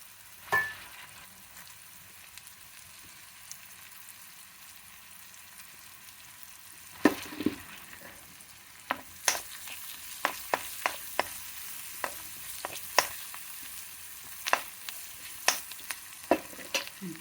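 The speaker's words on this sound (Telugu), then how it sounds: "ఇప్పుడు వేగినాయండి ఉల్లిపాయలు, ఇది వేసేస్తున్నాను." Onions frying in a pan for a lunch dalcha, with a low steady sizzle and a series of sharp scraping stirs and taps against the pan that grow more frequent in the second half.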